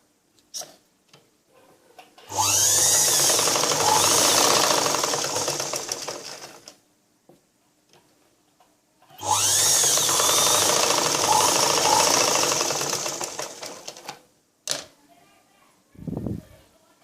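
A sewing machine stitches a blouse in two sustained runs of steady, rapid mechanical whirring, each several seconds long with a short pause between, followed by brief clicks and handling sounds.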